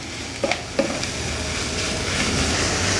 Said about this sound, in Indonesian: lalu aduk merata